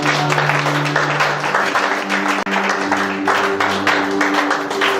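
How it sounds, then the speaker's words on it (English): A church congregation claps hands for the Lord during a sermon on Psalm 89 in Graz, with steady, rhythmic clapping under a sustained organ or keyboard chord throughout, briefly cut by a sharp dropout midway. "Give the Lord a clap of hands."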